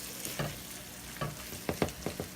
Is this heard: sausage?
yes